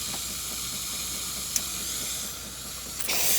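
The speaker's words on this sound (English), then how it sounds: "If we remove it, you can see that there's a lot of steam coming out through the steamer" Steady hiss of steam escaping from the steamer spout of a Jura Z6 coffee machine, continuous and fairly loud throughout with a brief click partway and a rise in hiss at the end.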